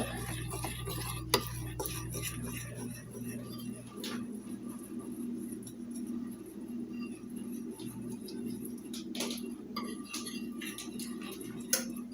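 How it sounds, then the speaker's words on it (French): A utensil stirs flour and oil together in a bowl, producing soft scraping with a few sharp clinks against the side over a steady background hum, while a person speaks at times. "Je mets 2 cuillères à soupe de farine et 2 cuillères à soupe d'huile. Voilà. Je mélange."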